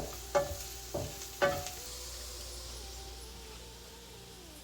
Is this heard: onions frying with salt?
yes